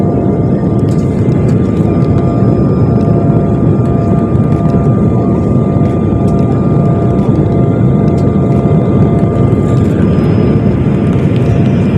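Loud, steady low-pitched engine drone fills an airplane cabin in flight, constant throughout with a faint hum above it and no talking.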